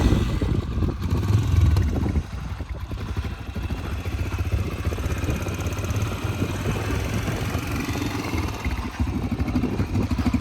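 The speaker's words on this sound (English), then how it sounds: "Go ahead and fire it up, son." A Yamaha TTR125LE dirt bike engine starts with a brief louder burst, then settles into a steady, fairly quiet idle, close by and running alone.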